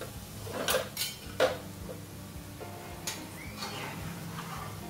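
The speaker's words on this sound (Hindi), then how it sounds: "तो इसमें हमने ऐड कर लिया है टमाटर का पल्प और अच्छे से इसको मिक्स करेंगे इस तेल में" A metal spoon stirs tomato pulp into hot oil in a pan over a low gas flame, giving a few sharp clinks and scrapes against the pan early on, then softer intermittent stirring with no talking.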